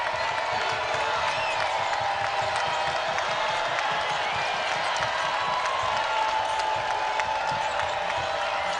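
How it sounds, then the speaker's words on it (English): A basketball arena crowd at an Illinois versus Penn State game roars in a loud, continuous wash of cheering and shouting, with a ball bouncing faintly underneath and a commentator's voice blended in. "Crowd making more noise than they have all night."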